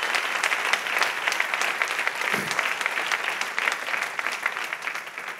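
Applause from a church congregation during a missions service, steady clapping filling the room throughout, fairly loud and continuous with no speech over it.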